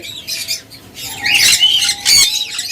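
Red-eyed lutino pet birds, a pair, squawk in loud harsh bursts, with a couple of strong calls close by and quieter chatter between them.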